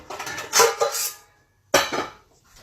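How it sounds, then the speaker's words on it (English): A bowl pulled from a cluttered kitchen cabinet stocked with cookware: clattering knocks of dishes and utensils in a burst, a pause, then another sharp clink and rattle, close and fairly loud with no talking. "I am going to grab a bowl to put my cheese in"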